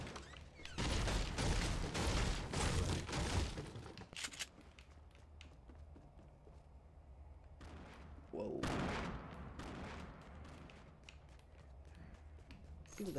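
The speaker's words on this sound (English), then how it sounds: "Can I just hear all those explosions?" Dense bursts of gunfire and explosions, loud at first then scattered sharp cracks and booms, with a heavy blast near the end.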